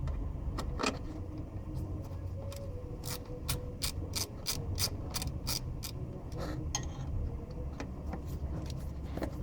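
Ratchet running in bolts on a Dieselgeek P2015 repair bracket, close sharp clicks in quick irregular bursts over a low background hum.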